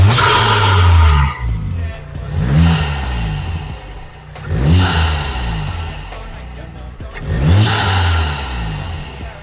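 A Volkswagen MK7 Golf GTI fitted with a Forge dump valve revs hard in three loud, close bursts, each rising engine roar ending in a fluttering turbo surge and whoosh before the next pull.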